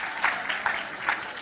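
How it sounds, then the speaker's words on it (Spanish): A church congregation applauding the Lord during a sermon: a short burst of group clapping with a rhythmic pulse, moderately loud and steady. "Dale ese aplauso fuerte al Señor."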